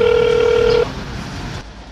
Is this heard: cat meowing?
no